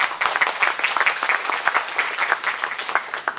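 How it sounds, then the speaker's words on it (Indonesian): A crowd applauds steadily, a dense wash of clapping from many hands that holds throughout. "tepuk tangan untuk Pak Camat"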